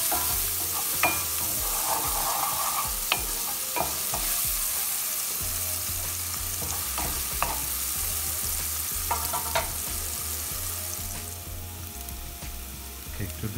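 Onions sauté in oil in a pan with a loud, steady sizzle. Repeated spatula scrapes and taps mark the stirring, and a low hum runs beneath, without speech.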